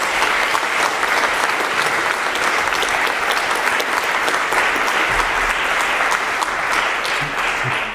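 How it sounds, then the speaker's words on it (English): An audience at a soil carbon climate conference session claps for the panelists, a dense, even round of applause that holds steady throughout and tapers only at the very end. "So please have a good applause to all our panelists."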